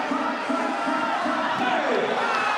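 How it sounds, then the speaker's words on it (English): A crowd of fans cheers for Sri Lanka at a FIBA 3x3 Asia Cup men's basketball game against the Republic of Korea, a loud, continuous roar of many voices with rising shouts. "Sri Lanka has a lot of people cheering for them"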